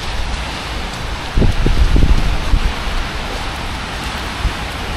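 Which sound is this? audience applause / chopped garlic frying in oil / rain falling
rain falling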